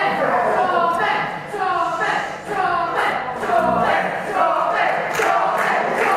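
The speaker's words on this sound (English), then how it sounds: "Crowd here trying to give Tommy Dillon some life." A wrestling crowd at a UKW Friday Night Showdown event chants in rhythmic bursts, rising and falling in waves, loud and close.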